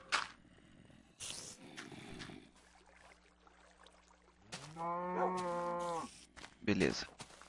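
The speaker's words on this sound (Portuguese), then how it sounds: "Uma vaca já temos, tem uma lá." A Minecraft cow lets out a long, loud, nasal moo in the middle of quieter game sounds, with soft footsteps, item clicks and pops around it and no voice over it.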